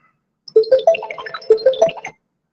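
A mobile phone rings during a talk, playing two short melodic bursts of bright electronic tones in quick succession, clear and close against an otherwise quiet background.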